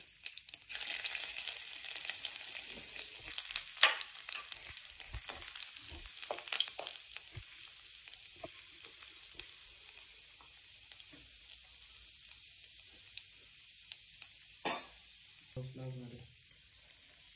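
Curry leaves and finely chopped ginger drop into hot oil with cumin seeds, giving a steady close sizzle and crackle with occasional stirring clatter, busiest at the start and tapering to a lighter fry with a few spoon taps near the end.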